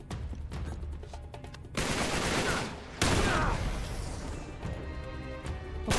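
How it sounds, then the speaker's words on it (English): Loud bursts of gunfire from new guns in the Uncharted 3: Drake's Deception video game, set in France, erupt in two heavy volleys with crashing impacts and scattered shots trailing between them, no talk. "These new guns are super loud"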